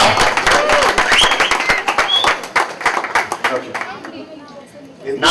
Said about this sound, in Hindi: एक बार जोरदार तालियां से ऑस्ट्रेलिया